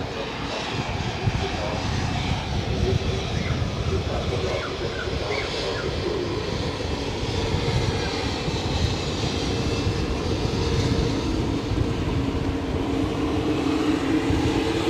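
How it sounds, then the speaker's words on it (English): An Airbus A320 in Saudi livery departs Zurich airport, its jet engines a loud, steady broadband roar that holds at a constant level for the whole stretch, with no voices. "that was an Airbus 320 in Saudi livery that just departed to Riyadh"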